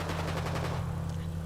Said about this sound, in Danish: Han er lige skudt mig.